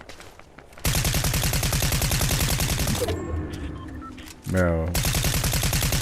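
Rapid automatic gunfire in the video game Fortnite, loud sustained bursts of rattling shots with a brief lull and other game effects in the middle, and a person says a single word.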